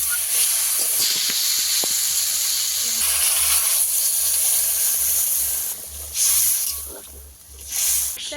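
Water poured onto a spice paste frying hot in a pan for a pakal (eel) fish curry sets off a loud, steady hissing sizzle that swells and fades in bursts, with occasional low thumps beneath and no talk.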